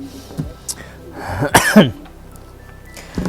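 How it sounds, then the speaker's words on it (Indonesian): A man coughs in a few rough, throaty bursts, the loudest cluster in the middle, with a brief throat-clearing sound before and after and no other talk. "Aduh, batuk gue."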